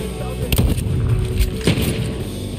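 Rifle shots in the shooter Deathloop, two or three sharp loud reports spaced about a second apart, close and punchy over game ambience.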